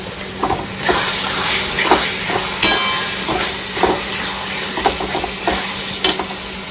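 A spoon scrapes and stirs turmeric-spiced ilish fish heads with taro greens in a sizzling pan, with steady frying hiss under roughly rhythmic scrapes about once a second.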